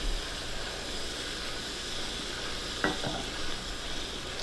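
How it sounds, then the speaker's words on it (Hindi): Saffron and yellow food colour infused milk poured into frying semolina halwa: a steady, loud hiss and sizzle fills the pan throughout, with a brief clink of a utensil partway through. "साथ में हम अपना ज़ाफ़रान और yellow food colour infused milk add करते हैं।"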